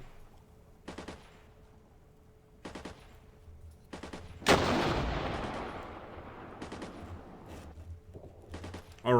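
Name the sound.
recoilless rifle fire in Armored Brigade video game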